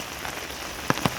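Rain falling on a surface in a farming area: a soft, even patter across the whole moment, punctuated by two sharper, louder drop impacts close together near the end.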